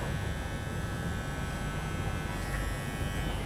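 An electric hair clipper set to a 0.25 guard buzzes steadily and close while trimming at the fade line of a skin head fade haircut, a continuous mechanical hum with no speech.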